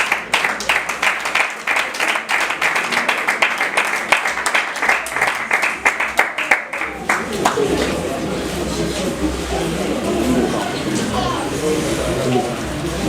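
Audience at a ceremony where people are called forward by name claps in a brisk, fairly even rhythm for several seconds, then the sound gives way to a diffuse crowd roar and murmuring of many voices.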